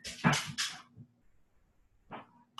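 A pet dog barks indoors, a couple of quick close barks followed by a pause and one more fainter yelp, with no talking.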